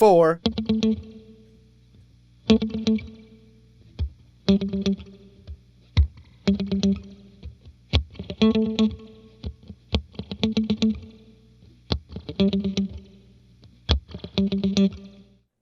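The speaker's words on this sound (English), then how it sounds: "Then another percussive single note line is added" Percussive single-note electric guitar line from a song, played with palm muting: short plucked notes and muted chucks in a steady, repeating rhythmic pattern, close and clean, with a brief spoken count near the start.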